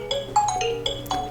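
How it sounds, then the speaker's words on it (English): The Nokia Tune ringtone plays on a Nokia 7 Plus phone, a short bright melody of quick electronic notes, clear and close with no other sound. "you've got obviously the NOKIA Tune,"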